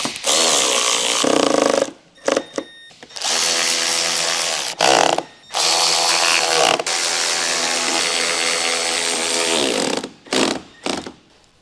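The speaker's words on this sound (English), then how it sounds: "Use a small 8mm deep socket with a small electric wrench. Tighten the base retaining bolt." A small electric wrench with an 8mm deep socket tightens the base retaining bolt for the A-pillar windshield molding on a Ford Explorer, with loud whirring bursts of several seconds each broken by short pauses, close up.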